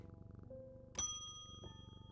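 A cat lies purring in a cozy shop in the video game Strange Antiquities, a soft rhythmic purr running throughout while bright chime tones ring over it.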